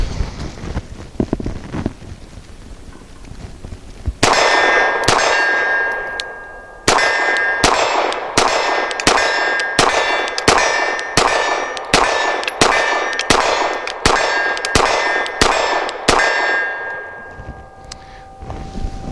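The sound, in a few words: Archon Type B pistol firing 124 grain rounds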